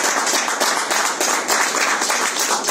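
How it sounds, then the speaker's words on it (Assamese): An audience at a book launch for a novel claps steadily in dense, continuous applause that holds even throughout. "খুব সজোৰ হাত চাপৰি দিব লাগে"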